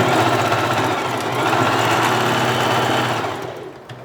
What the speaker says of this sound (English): let's go ahead and finish sewing our weft onto the cap